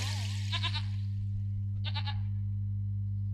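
A goat being dragged along, giving two short quavering bleats a second or so apart over a steady low electrical hum, moderately close with no one speaking.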